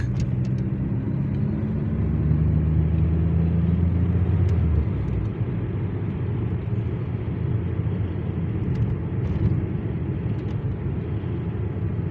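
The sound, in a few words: busy road traffic heard from a car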